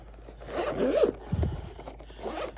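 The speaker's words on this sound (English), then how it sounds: "And we zip it up." A KAIWEETS circuit breaker finder carrying case being zipped shut, close up, with a long zipper pull followed by a shorter rough zip, and no talking.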